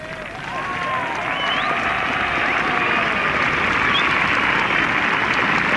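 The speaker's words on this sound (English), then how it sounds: "He gets a very good cheer too." A large golf gallery at the 1970 Open Championship at St Andrews breaks into sustained cheering and applause, a dense wash of clapping that swells and holds steady, with faint voices drifting over it.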